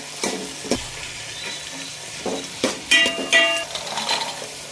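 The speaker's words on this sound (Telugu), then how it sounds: "క్యారెట్లు టమాటో పచ్చిమిర్చి వేసుకుని ఒకసారి మొత్తం కలిపేసుకుందాం" Carrots, tomato and green chillies frying in a pan for pulao, stirred in several bursts of scraping and clinking over a steady soft sizzle, close and fairly loud.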